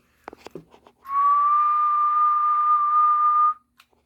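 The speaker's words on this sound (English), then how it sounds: "we're gonna do a whistle in it" One steady, sustained human whistle into the microphone of an AnyTone 6666 radio with an RM Italy 503 HD amplifier, held on a single pitch for over two seconds after a few faint clicks and handling noises.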